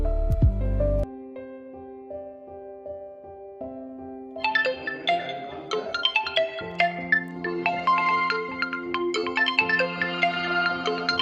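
A melodic phone ringtone plays loudly and alone, a bright synthesized tune repeating its pattern with rising layers of notes.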